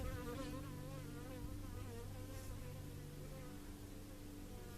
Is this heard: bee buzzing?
yes